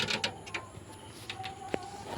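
Local domestic pigeons coo softly in short bursts over a steady low hum, fairly quiet and with no voices.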